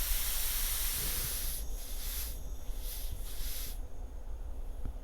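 Compressed air hisses steadily from a leaking air line fitting with the compressor running, a continuous close broadband hiss that pulses slightly in the middle.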